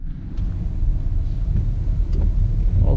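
Low rumbling road noise from inside a car driving downhill in rain amid traffic, a steady close drone with faint swishes and small knocks, no talking.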